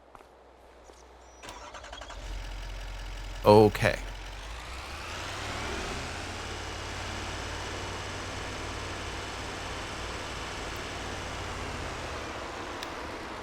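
A truck engine in Farming Simulator 25, hauling a water trailer, cranks and catches with a brief loud burst, then settles into a steady mid-pitched drive hum; a voice speaks briefly.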